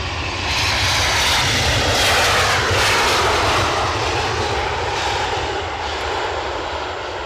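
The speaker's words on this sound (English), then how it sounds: "Show opener from Aer Lingus, their A350 flight from Dublin." An Aer Lingus Airbus A350 jet from Dublin at Edinburgh Airport roars steadily at a distance, a broad, even engine rumble and whine that swells slightly and then eases, with no talk over it.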